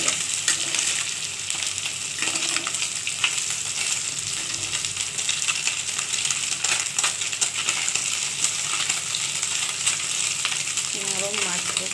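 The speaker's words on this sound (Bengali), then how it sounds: "মাছটা প্রায় আমার ভাজা হয়েই গেছে" Morola fish fry in a pan, a loud steady hiss and crackle of hot oil close up, with occasional scraping clinks of a spatula.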